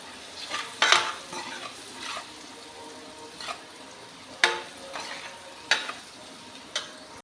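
Dry spices (chili, turmeric, salt and coriander powder) stirred into zucchini curry in a pan: a soft sizzle broken by several sharp spoon-against-pan scrapes and clinks at uneven intervals.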